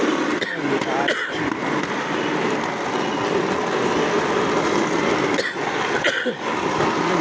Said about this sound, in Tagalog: Nagmamaniobra ng train. May kasalubong.